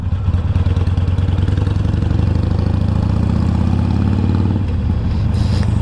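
A Harley-Davidson Road King Classic motorcycle idles outdoors on a hot day, its engine a steady, loud low rumble that runs continuously before easing slightly near the end.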